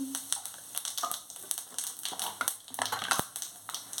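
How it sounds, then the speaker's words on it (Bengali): Cumin seeds crackling in hot oil in a kadai, with rapid irregular pops and sputters in a busy, close sizzle that rises and falls. "কড়াই গরম হয়ে গেছে এবার দিচ্ছি জিরে ফোড়ন দিচ্ছি"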